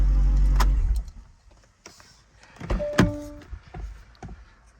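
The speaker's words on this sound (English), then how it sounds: "So I'm going to shut the car off now." A 2009 Audi R8 with a manual gearbox and V8 engine is switched off: a loud low engine rumble cuts out within the first second, followed by quieter clicks, a short electronic tone and a soft whirring.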